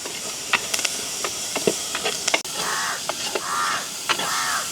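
Onions, green chillies and garlic sautéing in a pan give a steady hissing sizzle with brief crackles and sharper spikes of stirring. Outdoor bird caws break in partway through.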